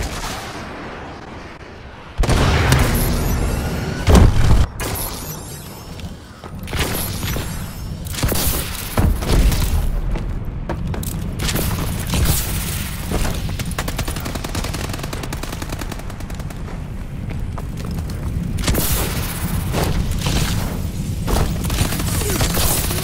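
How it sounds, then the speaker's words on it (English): Missile strike explosions in Call of Duty land as a barrage of loud booms and crackling blasts mixed with rapid gunfire, dense and continuous across the stretch with sharp bursts early on. "Friendly missile strikes inbound."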